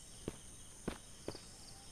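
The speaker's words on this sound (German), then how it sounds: "Ich habe das Gefühl, ich höre hier Schritte." Three slow, soft footsteps in the Mist Survival video game, each a distinct muffled thud spaced under a second apart against a faint steady hiss of ambient background.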